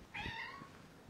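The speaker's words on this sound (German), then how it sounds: "Bounty ist die Tochter von Pepe. Von der scheuesten Katze, die ich habe." A cat meows once, a clear, fairly faint drawn-out call in a quiet home, followed by soft rustling.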